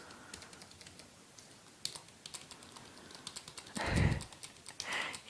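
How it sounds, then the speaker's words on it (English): Keys on a computer keyboard are tapped in short, light bursts during a travel agent role play, close and soft at first, then with a couple of louder rustling clatters near the end; no one speaks. "I'm just typing it all into the form that I have to fill out"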